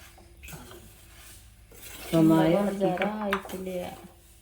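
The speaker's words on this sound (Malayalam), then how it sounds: "ഇതിങ്ങനെ കുറച്ച് നേരം ഇളക്കിക്കൊണ്ടിരിക്കട്ടോ ആ ഈ പഞ്ചസാരയൊക്കെ എല്ലായിടത്തേക്കും ഒന്ന് പിടിക്കാൻ വേണ്ടിയിട്ടാണ്" Sugar-coated homemade sweets being stirred in a metal pan, with scraping and clattering of a utensil against the pan, close and fairly loud, and a voice talking over part of it.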